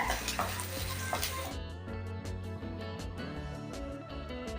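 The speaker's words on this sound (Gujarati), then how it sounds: "તો ગેસની ફ્લેમ ફૂલ રાખીને કેપ્સિકમ અને ડુંગળીને સાતડી લેવાના છે" Capsicum and onion sautéing in a kadai over a full gas flame, a steady close sizzle with intermittent stirring scrapes, and a burst of brighter crackle in the first second and a half.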